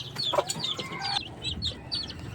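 Chickens clucking while being fed, a close cluster of short rapid clucks and brief higher calls over about two seconds, with faint shuffling in the background and no talking.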